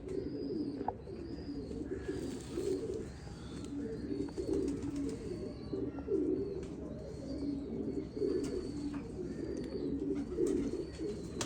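Pigeons coo softly in repeated low, throaty phrases, with faint chirps from other birds in the background.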